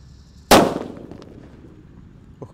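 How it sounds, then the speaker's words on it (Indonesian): A jumbo red mercon petir (Pearl Thunder) paper-wrapped firecracker bursts once with a sharp, loud bang that rings and fades over about a second, followed by a small knock. "Mercon petir, let's go."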